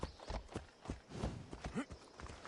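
Horse hooves clip-clopping in Assassin's Creed Odyssey, a run of several uneven thuds under a voice as he talks over the game.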